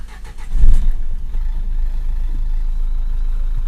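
A close 2011 Nissan Qashqai+2 engine cranks and fires with a loud burst, then drops into a steady low rumbling idle.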